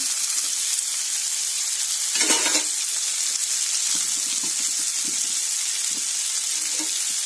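Potatoes and capsicum fry in a pan with a continuous loud sizzle, broken by a few scraping stirs of a spatula partway through and near the end.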